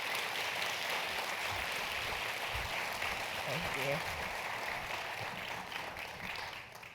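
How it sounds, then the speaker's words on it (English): Moderately faint audience applause for a keynote speaker at a Stairway to Success event, a steady wash of clapping that thins out toward the end while a voice briefly speaks over it. "Everybody give her a big round of applause"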